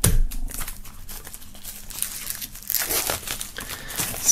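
A sticker peels off the cover of a boxed game set, producing close, crinkly tearing and crumpling noises in quick bursts over a few seconds.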